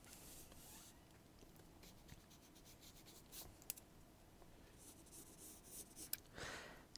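Pencil on paper sketching a tree trunk, soft close scratchy strokes in quick short bursts, very quiet, with a few tiny taps.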